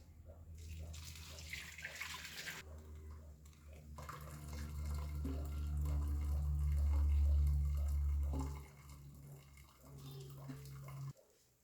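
Curdled milk for chhena is strained and the whey pours off through a strainer, a steady, swelling splash of liquid for several seconds that then stops, with a low background hum.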